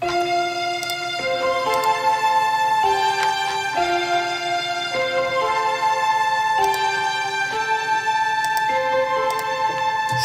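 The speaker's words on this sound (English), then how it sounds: "It's actually a marimba that we got here, layered with this violin." A marimba layered with a violin-like synth in an FL Studio progressive house track, bright plucked notes with sustained bowed tones moving through a melodic phrase, loud and clean.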